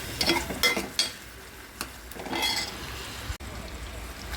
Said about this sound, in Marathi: आपल्या आपला कांदा भाजून घेतो कांदा टोमॅटो मस्त भाजून निघाला पाहिजे